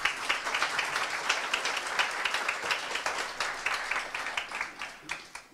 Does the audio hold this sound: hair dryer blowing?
no